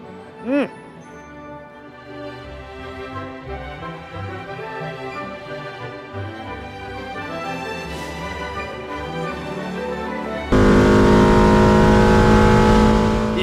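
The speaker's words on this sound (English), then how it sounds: "Feels good to be back on track with the MR2. She's even faster than I remember. These cams are doing work." Toyota MR2 with upgraded cams lapping a racetrack, the engine revving and pitching up through gears with a sustained drone, ending in a louder, rougher roar, with speech heard over it.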